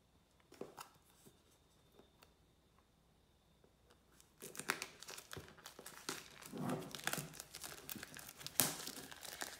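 Clear plastic wrapping is pulled and crinkled off a wireless headphone box. A few faint rustles come first, then close, continuous crackling and tearing, with a sharp crinkle near the end.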